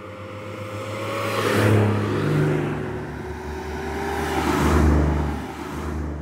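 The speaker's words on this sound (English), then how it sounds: "it's the sound of that straight six, you know, cylinder engine under the car" A BMW E28 straight-six engine revs up twice in long swelling rises, a deep steady hum rolling underneath, close and fairly loud with no talking.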